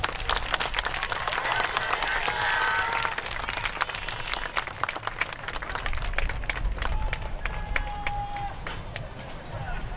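An outdoor festival crowd claps dense, continuous applause for a taiko drum and dance troupe's performance, with a voice heard over the clapping.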